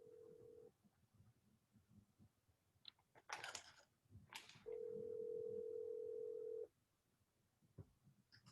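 A steady telephone dial tone sounds twice, a short burst at the start and a longer unbroken stretch of about two seconds later, with faint clicks and rustles around it and no talking.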